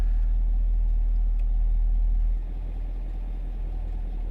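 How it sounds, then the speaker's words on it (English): A 2021 Chevrolet Camaro exhaust idles with a steady, deep low rumble up close, dropping slightly in level partway through as the exhaust mode changes, with no talking. "I don't know if you could notice the way it changed the sound of the exhaust too."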